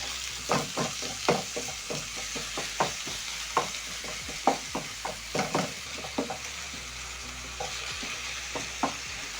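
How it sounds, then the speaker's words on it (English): Minced beef fries in a pan under a steady sizzle while a spatula breaks it up, with repeated sharp scraping taps at an uneven rhythm, close and without speech. "I'm going to add in my minced meat. Using your spatula, you're going to break down the meat as it cooks."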